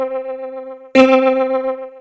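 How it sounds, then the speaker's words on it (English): A sustained tone played through a Leslie rotary speaker effect swirls with a wavering, warbling shimmer. It is loud and up close, with a sharp re-attack of the note about halfway through. "send it to this Leslie effect"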